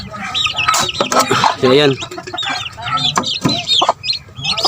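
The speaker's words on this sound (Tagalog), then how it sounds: "yan yung mga manok natin, tsaka yung mga maliliit na bago." Chickens on a backyard farm, including newly hatched young birds, cluck and squawk in a busy mix close by while someone talks over them.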